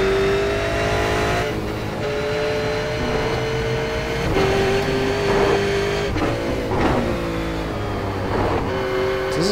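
A V8 race car laps Road Atlanta in iRacing, its engine droning loud and steady with pitch climbing through the gears, then dropping at shifts and braking points, heard close with no voices.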